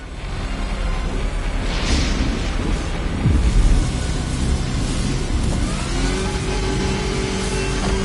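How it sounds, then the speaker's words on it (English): Powerful 250-kilowatt engines rev in a video game, a loud sustained mechanical roar that swells and rises in pitch, with a heavy low boom partway through and a steady climbing whine near the end. "look at those 250 kilowatt engines at work"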